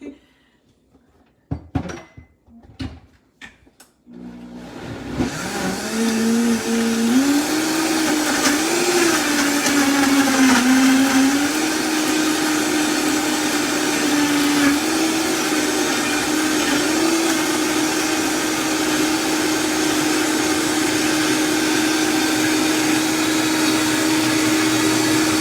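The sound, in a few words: blender making a smoothie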